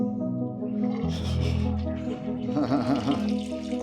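Water running from a tap into a container being filled, a steady rushing stream with shifting pitch as it fills, with faint voices and handling noise around it.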